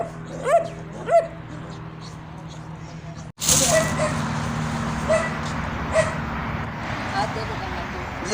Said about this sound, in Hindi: यहाँ पर इस डॉगी ने तो हमें खूब डराने धमकाने की कोशिश की है।